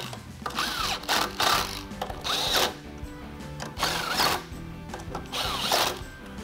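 Power tool driving down the new bolts on a 6.7L Powerstroke Melling K567 oil pump, in several separate whirring bursts of about a second each with short pauses between them, close and fairly loud.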